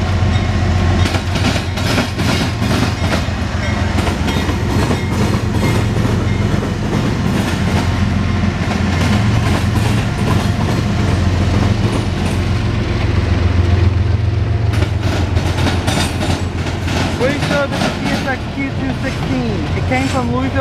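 CSX eastbound autorack freight train Q216, running from Louisville to Philadelphia, passes close by at Marion, Ohio, with a loud, unbroken rumble and rhythmic wheel clatter lasting the whole time. Voices can be heard at moments.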